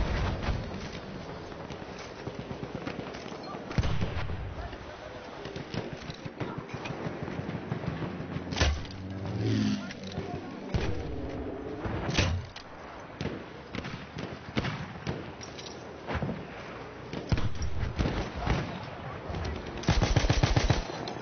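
Battlefield 1 gunfire: dense, continuous bursts of machine-gun and rifle shots with sharp individual cracks and occasional louder blasts, loud and close throughout.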